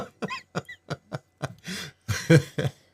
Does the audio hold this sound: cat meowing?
no